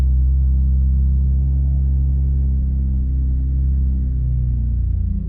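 Idling 2015 Chevrolet Camaro LS V6, a close, loud and steady low-pitched engine rumble with a smooth even hum that holds throughout, the pitch settling slightly toward the end.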